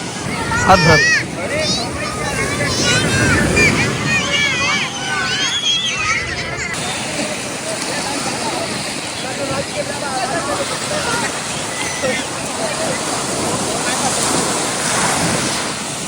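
Sea waves breaking on a beach at Pondicherry in the evening, with people bathing, a steady broad surf roar under wind noise and crowd chatter for the whole stretch, heavier at the start.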